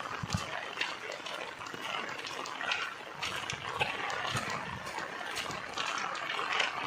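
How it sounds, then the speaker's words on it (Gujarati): Steady rain comes down over a village at the start of the monsoon, a dense continuous hiss with scattered splashes and faint background noise throughout. "વરસાદ ચાલુ થઈ ગયો છે મિત્રો."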